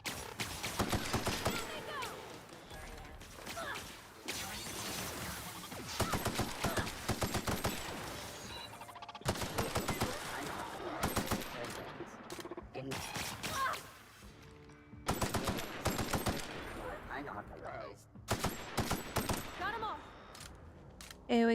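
Rapid bursts of gunfire from a gun in a video game rattle in repeated fusillades with short pauses between them, while a voice talks over parts of the action.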